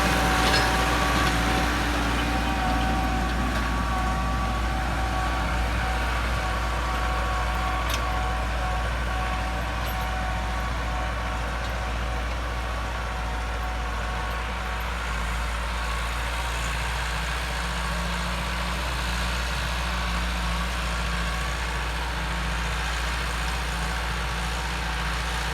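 A farm tractor engine runs steadily in first gear, a continuous low diesel rumble at an even, moderately loud level for the whole stretch, with no voices over it.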